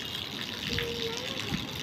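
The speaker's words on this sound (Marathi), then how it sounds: "पाणी वाहते ना. टाकी भरली काय." Water gushes steadily into a filling water tank on a rooftop terrace, a continuous close rush running throughout, with a child's and adult's voices speaking over it.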